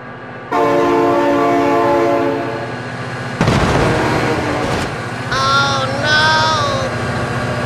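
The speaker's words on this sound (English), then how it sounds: "Oh my god, train!" A train in BeamNG.Drive sounds a long, loud horn, then rumbles past with heavy clattering before a second horn call rings out.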